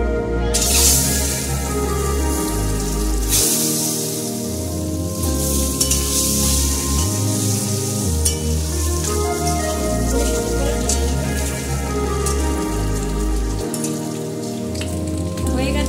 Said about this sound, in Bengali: এবার আমি ডিমগুলো ছেড়ে দেবো।